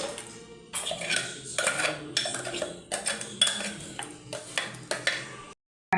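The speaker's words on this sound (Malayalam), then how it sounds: "നമുക്ക് മിക്സ് ചെയ്യാൻ ചെയ്യാം." A spoon works ground paste into cooked cucumber in a pot for pachadi, repeated scraping and clinking strokes against the pot in an uneven rhythm, close and moderately loud, stopping briefly near the end.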